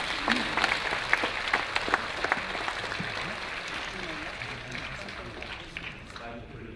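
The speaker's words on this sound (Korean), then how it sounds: "큰 박수 부탁드리겠습니다." An audience claps at an award ceremony during a school athletics meet, a moderate, steady patter heard from some distance that slowly thins toward the end, with faint voices underneath.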